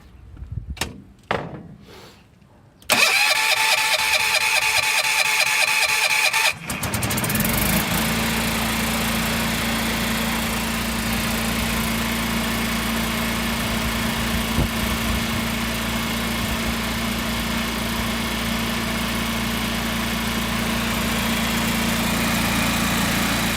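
A Generac Guardian 8kW home standby generator starting from cold after repairs: a few clicks, a cranking whir, then the engine catches and runs at a loud, steady drone nearby for the remaining twenty seconds.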